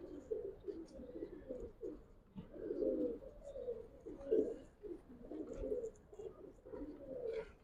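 Giribaz pigeons in a loft, several birds giving soft rolling coos that overlap in a steady, fairly close cluster of calls.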